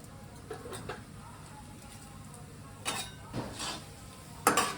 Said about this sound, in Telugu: ఆవాలు జీలకర్ర వేస్తే బాగుంటుందేమో వేస్తున్నాను